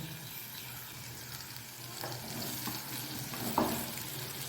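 Potatoes being added to a pan with onions for a poriyal, producing a low continuous frying sizzle with occasional stirring scrapes and a brief louder clatter near the end, no talking.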